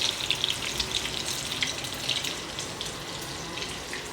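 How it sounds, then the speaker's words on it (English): Chicken fries in a pan, giving a continuous close sizzle and crackle with small pops throughout and no talking. "Let that fry up a little bit."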